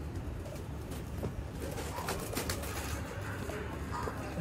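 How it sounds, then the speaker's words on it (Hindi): Soft, repeated cooing of black-faced Sialkoti pigeons nearby over a low background rumble, with faint wing sounds. "ब्रांडेड सियालकोटी शेखा वाले कबूतर, काले मुंह वाले दोस्तों कबूतर"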